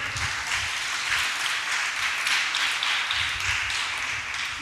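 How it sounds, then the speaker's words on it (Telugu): A large church congregation applauds with steady, dense clapping that holds for the whole stretch and fills a reverberant hall. "చప్పట్లు కొట్టండి ఒకసారి"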